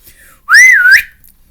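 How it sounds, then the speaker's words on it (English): A single loud whistle, close by, bending up and down in pitch for about half a second before trailing off, with no talk around it. "he whistled again, even louder this time"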